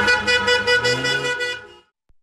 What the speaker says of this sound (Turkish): Durumu korna çalarak protesto etti.